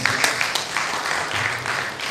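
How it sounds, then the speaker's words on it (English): Audience applause at a university advisors workshop, a sustained wash of many hands clapping in a hall, moderately loud and even throughout. "Shall we clap for him again, please?"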